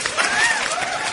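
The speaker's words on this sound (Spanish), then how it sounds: "Aplausos a Buda, porque te los merece." A studio audience on a personal-growth radio program applauds, a brief steady patter of clapping close to the microphone.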